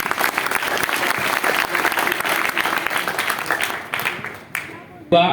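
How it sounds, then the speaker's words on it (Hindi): A large crowd claps steadily and densely at a Jan Suraaj party gathering in Patna, Bihar, the applause loud and sustained before thinning out near the end, when a voice begins to speak. "एक बार ताली बजा दीजिए।"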